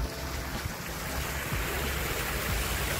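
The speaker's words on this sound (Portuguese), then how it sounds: "Fonte d'água, sei lá, uma fonte d'água." Water from a fountain built like a small waterfall at the entrance of the Waikato Museum in Hamilton rushes in a steady broadband wash, with wind buffeting the microphone and no talking.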